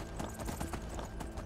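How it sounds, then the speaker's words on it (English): Horse hooves clip-clop steadily in Skyrim, a brisk repeating rhythm of close, moderately loud hoofbeats over a constant game background, with no voices. "Oh my god, we have a horse."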